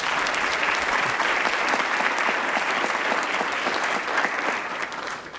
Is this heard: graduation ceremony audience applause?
yes